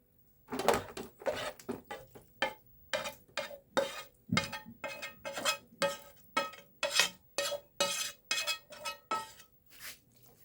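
Cooked mince for a cottage pie being spooned into a dish, a rhythmic series of sharp clinks and scrapes of a utensil against the dish, close and distinct, with short pauses between strokes and no talk.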